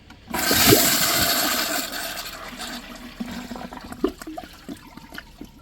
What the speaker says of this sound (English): I'll do one more flush.